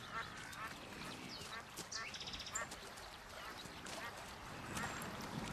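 Shelduck calls out on the open steppe, a stretch of nasal, quacking honks from a flock that overlap and repeat steadily at mid distance, partly under a narrator's voice.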